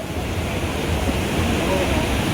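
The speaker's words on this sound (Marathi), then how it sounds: "खूप जास्त जोरात पाणी जायला लागले" Fast, swollen Ravi river water rushing beneath a railway bridge on the Jammu–Pathankot route, heard as a steady, loud broadband roar with wind-like noise that stays constant throughout, with no clear speech over it.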